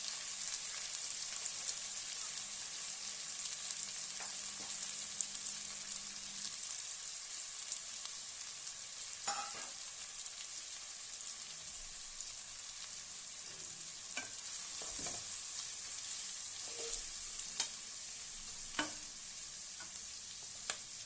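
Four chopped onions fry in oil for a country chicken curry, a steady, moderately quiet sizzle like light rain, broken by occasional stirring clinks and scrapes, with no voices.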